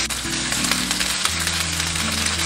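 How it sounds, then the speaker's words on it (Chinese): Marinated shrimp sizzle in a hot cast iron pan with a little oil over medium-low heat, a loud, steady crackling fry filling the whole stretch with no talk. "然后下入虾仁，中小火煎。"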